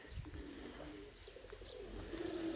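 A pigeon coos softly near a garden, with low, throaty, rolling calls that are faint and close, set against quiet outdoor background noise.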